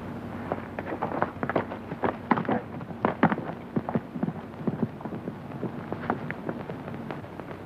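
Irregular hoofbeats clatter as horses ridden off move away in a 1937 Western film, moderately loud, with sharp uneven thuds over a quiet background.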